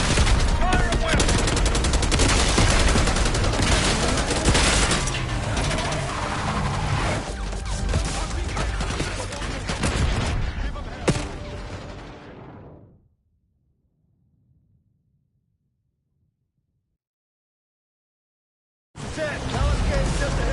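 Dense, continuous gunfire volley in a fantasy campaign battle video game, loud and sustained for about twelve seconds with bursts and crashes layered over voices, then cutting off abruptly into silence before the din returns briefly at the end.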